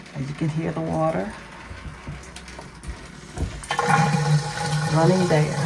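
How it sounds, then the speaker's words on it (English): Water runs through house plumbing during an inspection, a steady gurgling rush that swells near the end, with someone talking over it. "As you can hear the water"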